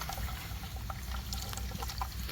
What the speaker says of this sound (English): But now we're going to pour our product.